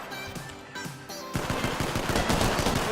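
Rapid automatic gunfire from the Apex Legends video game bursts continuously and loudly for about three seconds, dense and sustained, following a brief musical game tone at the start.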